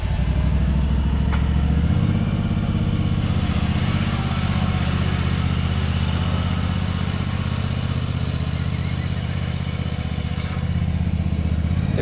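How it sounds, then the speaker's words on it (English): A lawn mower runs steadily nearby at a race-weekend home, a continuous droning engine with an even, unbroken hum and a slight shift in tone early on, with no talk over it. "Pops, he's gonna go mow."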